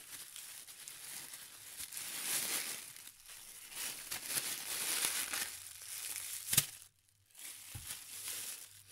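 A small plastic food bag is handled while being tied in a knot, giving continuous close crinkling and rustling that rises and falls, with one sharp snap near the end before quieter crinkles.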